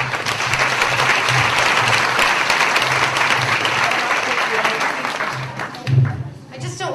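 A comedy show crowd gives a comedian a long, loud round of applause that holds steady before thinning out near the end.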